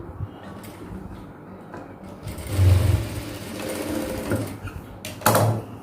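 Sewing machine stitching a silk skirt with hook and eye strip for a traditional silk blouse and skirt, a short close mechanical whir of stitching rising midway, with soft handling clatter before and a sharp knock near the end.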